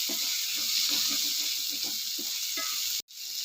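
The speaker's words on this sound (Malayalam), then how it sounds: "ഇനി നന്നായിട്ട് ഇളക്കിയിട്ട് നല്ലോണം ഒന്നും കൂടെ വഴന്ന് വരട്ടെ." Masala being stirred and sautéed in a pan for a prawn fry, a steady loud sizzle with soft rhythmic scraping strokes throughout, briefly cut off near the end before the sizzle resumes.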